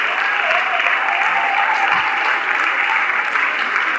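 Sustained applause from a congregation at a wedding blessing ceremony honouring the Lord, steady and dense throughout with a high hiss of many hands clapping, no talk over it.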